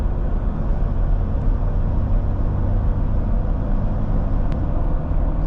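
A Jeep Wrangler JL on 37-inch Nitto Trail Grappler tires drives on the road under very light throttle, giving a steady low engine and road drone with no clear gear-change breaks.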